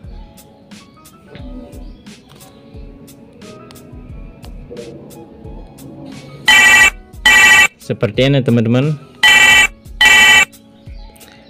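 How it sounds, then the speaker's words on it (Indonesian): A lost mobile phone rings loudly on its own after being triggered remotely by a phone-tracking service, producing several bursts of electronic ringtone with a warbling tone in the middle, following earlier talk. "kalian bisa membunyikan handphone tersebut dari jarak jauh ya teman-teman"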